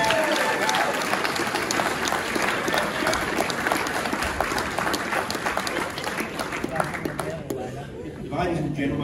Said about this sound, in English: Congratulations to you, Deb, and a resounding round of applause.